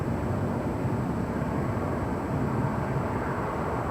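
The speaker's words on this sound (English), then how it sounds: "And this is Southwest Airlines 434 coming in from Nashville." A Southwest Airlines Boeing 737-800 arrives at LAX with a broad, steady engine roar that holds at a constant level throughout.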